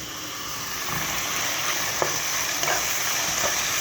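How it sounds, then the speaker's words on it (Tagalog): Aromatics and tomatoes sauté in a hot pan with a steady sizzle and frying hiss. Brief scraping stir strokes rise above it every second or so, up close with no talk. "Sunod-sunod na yan ang ating mga panggisa at ang ating kamatis."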